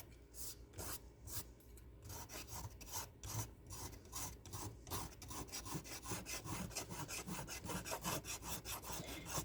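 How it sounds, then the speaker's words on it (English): Steady rasping scrape of a tool dragged over a thrifted wooden furniture piece in a studio, repeated strokes in a quick even rhythm, close and fairly loud, with no talk. "Yeah, I'm scraping it with the"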